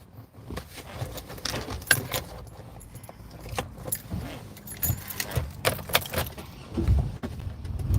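Keys jangle and clink repeatedly up close inside a car, in irregular metallic bursts with rustling and handling knocks between them.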